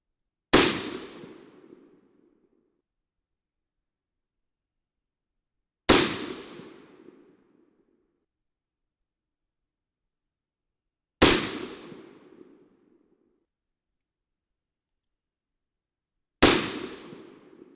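Four sharp, unsuppressed rifle shots from a 22 Nosler firing 77 grain factory ammunition, spaced about five seconds apart, each a loud crack with a short decaying tail into silence.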